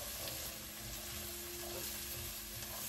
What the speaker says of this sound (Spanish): Voy a agregar el jengibre y vamos a mezclar muy bien.